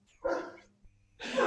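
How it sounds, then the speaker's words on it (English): A dog barks close by in two separate bursts, the first short and the second louder and sustained, with a quiet gap between them. "I hear the dog barking too."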